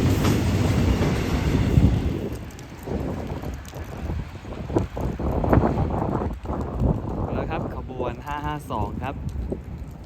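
Thai freight train 552 from Ban Ton Khon toward Laem Chabang port rumbles past on the rails with steady clattering and rushing wind, and someone talks over the noise.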